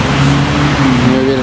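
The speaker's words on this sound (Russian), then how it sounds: "Едут сотрудники ДПС с мигалками." A Russian traffic police car with flashing lights drives past close by, its engine humming while a rising and falling siren-like tone wails over it.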